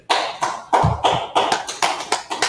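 Hands clap in a loose, steady rhythm at a gathering in Harlem, New York, about eight sharp, close claps with short gaps between them and no talking.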